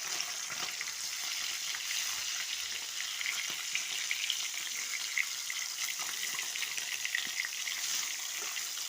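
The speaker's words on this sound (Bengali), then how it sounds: "লাল লাল করে ভাজা হবে, এক পিঠটা ভাজা হোক।" Folui fish frying in hot oil in a pan, a steady, fairly quiet sizzle with faint crackles running throughout and no voices.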